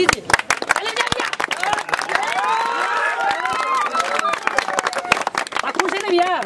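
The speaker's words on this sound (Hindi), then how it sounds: "आप लोगों से रिक्वेस्ट है तो ताली बजाइएगा" Audience at a street-side pani puri eating challenge breaks into sustained clapping and cheering for the winner, with many hands clapping in rapid, irregular bursts and excited voices and shouts mixed in throughout.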